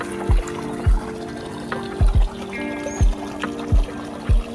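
Borewell water pours and splashes steadily, with regular low thuds recurring through it.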